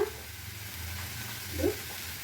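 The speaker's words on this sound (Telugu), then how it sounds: "జీలకర్ర బాగా ఫ్రై అవ్వాలి" Cumin seeds frying in hot oil in a pan give a steady, soft sizzle that swells briefly near the end, with no voices.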